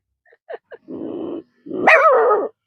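A boy from Mewat imitates a dog with his voice: a few short yips, then a sustained growl and a long, rising and falling howling bark, close and loud with quiet gaps between.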